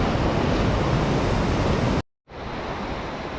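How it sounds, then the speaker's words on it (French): A huge waterfall on a mountain trail in the Mercantour roars as a loud, continuous broadband rush, broken by a brief dropout of silence before the roar resumes slightly quieter. "Une énorme cascade."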